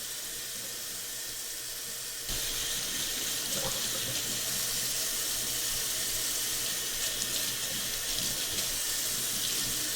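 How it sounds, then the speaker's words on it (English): Scalding hot tap water runs steadily into a sink during dishwashing, a continuous close hiss that grows louder and fuller after a couple of seconds, with no talking. "I make sure to wash with scalding hot water to ensure maximum cleanliness."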